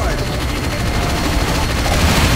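Dense, continuous automatic gunfire in Half-Life VR rattles loudly and without a break, aimed at a mech. Speech-like sound may sit under the fire.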